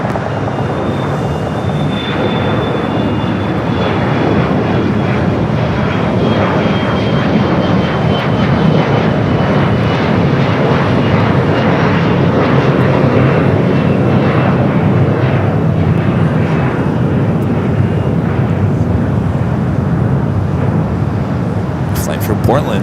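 A SkyWest E-Jet takes off from runway 25 right at LAX, its engines building into a loud, sustained roar that swells and holds for the whole stretch, with a radio voice and other talk faintly beneath.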